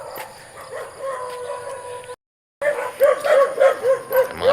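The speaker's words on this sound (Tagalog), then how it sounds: "Ang mga aso nagtatahulan na." Several dogs barking back and forth on a muddy rural path, a steady run of sharp barks with a brief gap, fairly close and growing louder toward the end.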